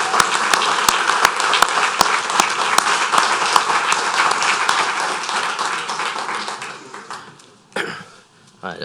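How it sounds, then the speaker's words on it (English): Audience at a parish council meeting applauding in a dense, sustained burst that slowly thins out, with a few louder individual claps near the start and a brief noise at the end. "they deserve a round of applause, too."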